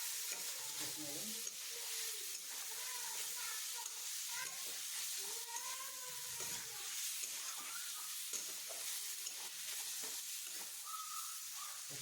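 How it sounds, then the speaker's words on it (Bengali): Vegetables and fried potatoes stir-fried in a pan for a ridge gourd and paneer dish, with a steady faint sizzle under repeated scraping stirs throughout. "দিয়ে এবার ভেজে রাখা আলুটা দিয়ে দিতে হবে। দিয়ে সুন্দর করে নেড়ে চেড়ে"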